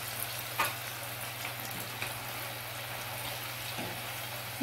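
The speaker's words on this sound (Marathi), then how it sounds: "तेल तापल्यानंतर यामध्ये आपण जे बटाट्याचे काप आहेत ते पसरवून टाकून घ्यायचं आहे" Potato slices spread in hot oil over high heat fry with a faint, steady crackling sizzle and a couple of small pops.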